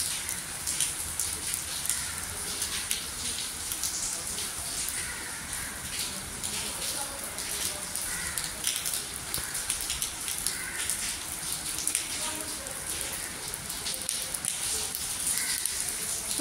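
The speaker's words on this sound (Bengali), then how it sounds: "তো বৃষ্টির আওয়াজ কিন্তু যেতে পারে।" Rain falls outside in a steady, dense patter of drops that carries on evenly throughout, with no talk over it.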